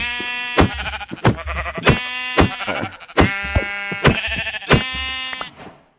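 Minecraft sheep bleat repeatedly in short, wavering, nasal cries, several overlapping calls in quick succession, loud and close with no talk over them.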